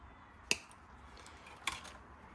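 Wire being snipped with cutters while fitting an aftermarket Fi exhaust on a Porsche 981 Cayman/Boxster: two sharp, quiet clicks about a second apart over faint room noise.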